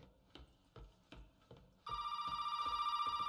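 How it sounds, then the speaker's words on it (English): A telephone rings in the video game Resident Evil 7, a bright continuous electronic ring that cuts in partway and holds steady, preceded by soft dull knocks or footsteps in a quiet room. "We'll answer this phone call in the next video"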